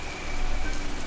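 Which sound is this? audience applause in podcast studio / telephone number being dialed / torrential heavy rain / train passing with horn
torrential heavy rain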